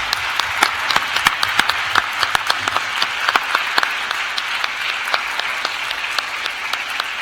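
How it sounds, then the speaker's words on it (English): A conference audience applauds the EuroDIG participants, a dense, loud and sustained wash of many clapping hands with individual sharp claps standing out throughout. "please give a round of applause, and please stand for all the EuroDIG participants"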